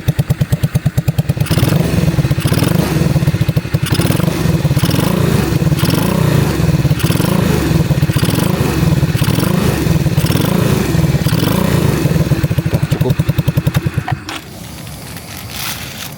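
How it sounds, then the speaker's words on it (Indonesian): A motorcycle engine idles loudly and steadily with a repaired exhaust fitted with an aluminium bracket, a close rough thrumming with rattly clatter that holds for most of the span before dropping off near the end. "Mesinnya juga masih halus."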